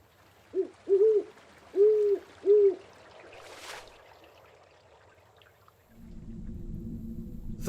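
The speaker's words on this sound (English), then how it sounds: "A large owl seems to be watching you." A large owl in the video game Colossal Cave, in a forest near a stream, gives four clear, low hoots in a steady rhythm. After a pause, a gentle trickling stream fades in.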